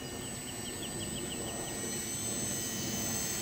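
An aircraft coming in to land gives a close, steady engine drone with a high, wavering whine that stays loud as it descends.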